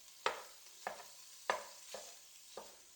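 A spatula breaks up food cooking in a pan with five distinct scraping strokes, each a short, fairly loud scrape over a faint sizzle, spaced about half a second apart with no voices.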